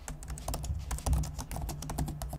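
Typing on the quiet, non-clicky keyboard of a Lenovo Flex 14 2-in-1 laptop, a quick run of soft close keystrokes in an irregular patter with no voices.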